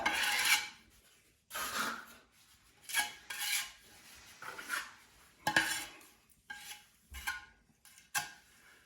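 Thinset mortar spread onto a tile with a trowel, repeated gritty scraping strokes in an uneven rhythm with short pauses between passes, close and alone.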